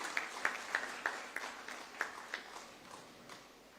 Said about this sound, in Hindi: तालियां जोरदार होनी चाहिए आपकी तरफ से।